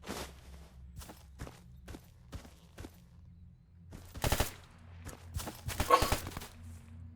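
Distant bursts of gunfire in the video game S.T.A.L.K.E.R.: Anomaly crack out at irregular intervals, some single shots and some rapid clusters, fairly faint with short silences between.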